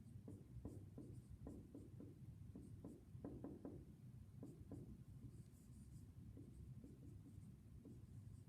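Pen or marker writing out the x terms of a sine Taylor series formula, a steady run of close, soft scratching strokes with short taps and pauses, no voices.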